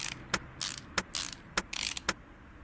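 Ratchet wrench tightening a bolt in the Car Mechanic Simulator 2018 video game on a white Toyota Supra, a run of sharp clicks and bursts of ratcheting, loud and close, with no talking.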